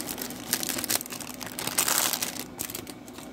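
Plastic packaging of a Saviland Excelsior polygel nail kit crinkles and crumples in close, irregular bursts for a few seconds, with no talking.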